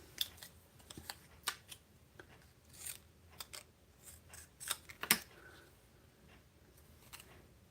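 Scissors trimming a small craft piece for a sunshine-and-tulips project: a few quiet, separate snips and faint paper rustles up close, with no talking.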